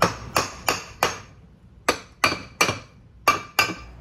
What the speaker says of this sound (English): Using very gentle taps to just pop the cases free.